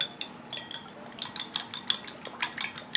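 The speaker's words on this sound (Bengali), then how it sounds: "আমি একটা চামচের সাহায্যে ফাটিয়ে নিচ্ছি" Three eggs are beaten in a bowl with a spoon for a steamed egg pudding, making quick, light clinking taps of metal against the bowl in an irregular rhythm, close and fairly clear.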